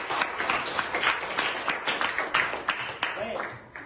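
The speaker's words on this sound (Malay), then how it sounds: "Tepuk tangan untuk dia." A small classroom group gives a student a short burst of applause, with steady overlapping claps at a moderate level and a brief voice near the end.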